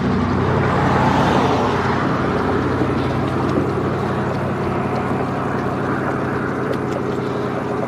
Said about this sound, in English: I'm sure the cars are loud.